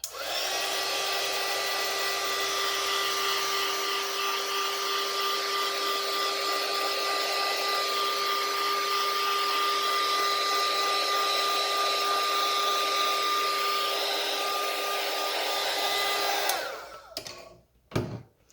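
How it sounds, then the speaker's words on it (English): A heat tool blowing hot air to dry ink on a card runs with a steady, loud whirring and high whine, then switches off near the end followed by a few clunks. "I'm going to take my heating tool to it just to make sure it's dry."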